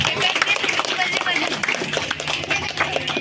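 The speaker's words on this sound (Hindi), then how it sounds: "एक बार आसिफ खान के लिए भी जोरदार ताली हो जाए।" Crowd clapping for Asif Khan as he is called up for a prize at an Independence Day event, loud sustained applause with crowd noise and some voices mixed in.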